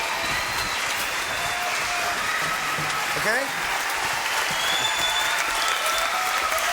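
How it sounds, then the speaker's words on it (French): A television studio audience on a French talk show applauds Paul Hogan, a thick, even wash of clapping that holds steady from start to finish, with a brief voice cutting through midway. "Mesdames, messieurs, quelques applaudissements pour notre crocodile Dundee local"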